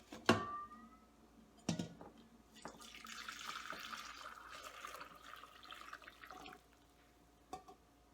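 Turkey breast drippings from an Instant Pot are poured through a small mesh strainer into a bowl, a steady liquid trickle and splash lasting several seconds, bracketed by a few sharp clinks of metal and glass.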